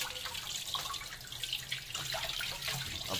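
Tap water runs steadily over brass idols in a sink, rinsing them in a continuous splashing stream with small drips, close and alone.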